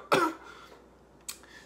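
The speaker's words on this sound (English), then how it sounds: "It's just a little cough I have." One sharp, close cough, followed a second later by a fainter, shorter cough or throat clear, with no talking.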